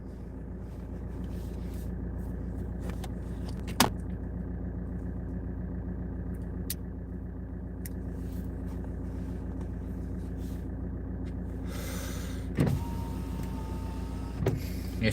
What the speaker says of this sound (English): I'm gonna take the car back to Connor